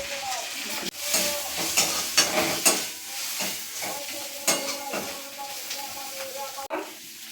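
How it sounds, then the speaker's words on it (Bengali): Fried prawns with turmeric and chilli powder are stirred in a hot pan: continuous sizzling hiss with repeated ladle scrapes and knocks against the metal, close and fairly loud, with no speech. "আমি ভেজে রাখা চিংড়ি মাছগুলো দিয়ে দিলাম অল্প পরিমাণ হলুদ এবং লঙ্কা গুঁড়া"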